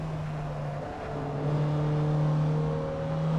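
A small race car in a racing video game holds a steady, droning engine note through a lap, a sustained tonal hum that rises slightly in pitch as it pulls along.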